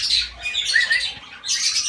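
An imported budgie gives sharp, shrill squawks and chatter in a few quick bursts, loud and close, with a short gap before a final burst.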